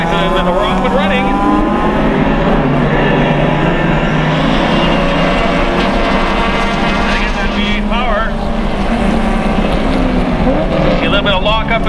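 Closed-wheel B-Spec race cars accelerate away from a green-flag race start, a loud, dense roar of many engines rising and sweeping in pitch without letup, under continuous commentary.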